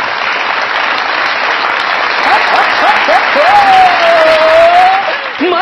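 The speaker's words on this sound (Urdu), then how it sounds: "بہت ساری تالیاں ان کے لیے." Studio audience at a Pakistani comedy talk show breaking into loud, sustained applause, a dense continuous clatter of many hands close to the microphones, with a musical tone rising near the end.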